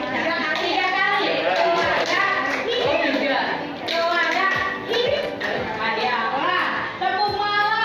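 A group of children claps hands in short rhythmic bursts of sharp taps as part of a 'tepuk malam' clapping game, with children's voices chanting over the claps throughout.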